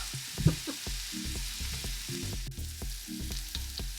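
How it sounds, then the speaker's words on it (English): Garlic frying in a pot for a vegan one-pot lemon pasta, a steady sizzle running throughout with a few sharp crackles and scattered utensil taps, fairly close and moderately loud. "Okay, so I just added the garlic."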